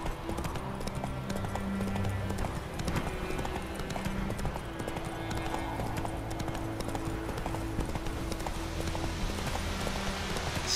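Roach the horse gallops through The Witcher 3 Wild Hunt, a steady, fast clip-clop of hooves that runs continuously and loud throughout with a faint voice in the background.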